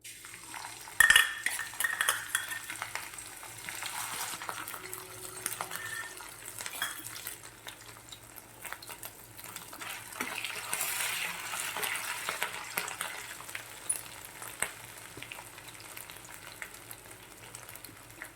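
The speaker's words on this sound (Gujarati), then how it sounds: "હવે આપણું તેલ ગરમ થઈ ગયું છે તો તેમાં આપણે આદુ મરચાં વાટેલા નાખી દઈશું" Crushed ginger and green chili paste dropped into hot oil for an amaranth-leaf curry, a sharp clatter at the start followed by a steady low sizzle with scattered spoon scrapes and stirring clinks, no voices.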